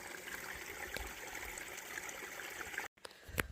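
A creek flows beside a hiking trail as a steady, soft rushing trickle, broken by a short cut in the sound and followed by a few faint knocks.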